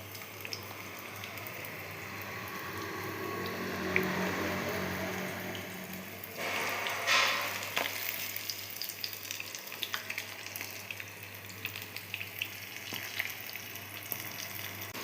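Pakodi fritters drop into hot oil and fry with a continuous bubbling sizzle that swells sharply as they go in, then settles into a steady crackle under occasional faint clinks.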